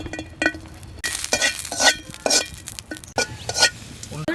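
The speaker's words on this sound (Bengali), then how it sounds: "কটা কিশমিশ ভেজে নিচ্ছি" Raisins frying in a pan for a Bengali ash gourd malai murabba, with short bursts of sizzling and clinks of a spoon against the pan, up close and without voices.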